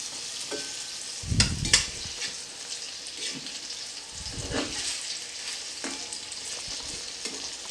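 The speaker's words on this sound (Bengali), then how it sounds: "এটা খুব বেশি কড়া করে ভাজবো না, আমি হালকা করেই ভেজে নেব" Halved boiled eggs frying lightly in oil for an egg curry, with a soft steady sizzle and a few louder bursts of spatter and turning noises, close by.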